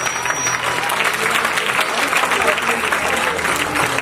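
Sustained audience applause fills a presentation hall, steady dense clapping from a large crowd throughout, with a voice partly audible beneath it.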